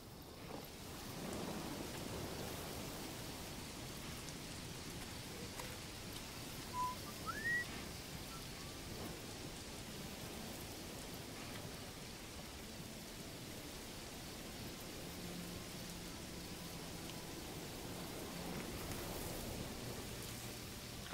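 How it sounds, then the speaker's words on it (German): A thunderstorm rolls through the medieval village in the video game Manor Lords, with steady rain hissing throughout, low rumbles of thunder, and a faint brief bird chirp. "ich suche gerade, wo das Gewitter gerade ist"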